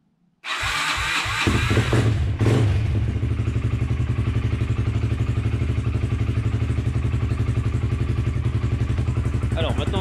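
A quad bike cranks briefly and then catches, settling into a steady, rapid, near running idle that stays loud and even to the end.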